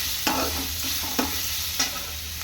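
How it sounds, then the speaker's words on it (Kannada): Grated raw mango frying in a pan for mango chitranna, giving a steady close sizzle with a few sharp scraping stirs of a spoon against the pan, no talking. "ತುರಿದಿಟ್ಟುಕೊಂಡಿರೋ ಮಾವಿನಕಾಯಿ ಹಾಕೋಣ. ಇದು ಕೂಡ ಫ್ರೈ ಆಗ್ತಾ ಇದೆ."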